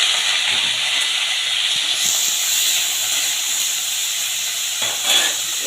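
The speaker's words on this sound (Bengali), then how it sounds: "আলুটাকে আমি ঢাকা দিয়ে দিয়ে ভালো করে ভেজে নেবো" Potatoes frying with five-spice seeds in hot oil in a covered wok, a steady, loud hissing sizzle that continues without a break, no talking.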